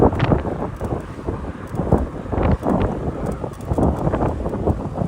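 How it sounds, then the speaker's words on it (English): Strong wind roars and buffets a microphone continuously, loud and gusty, with low rumbling bursts throughout, while cycling a bike lane on the Jamaica Bay Loop in New York City. "It is really windy up here right now."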